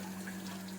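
Water runs steadily from a pump at a temple tank, a brief continuous flow with a low steady hum underneath and no voices.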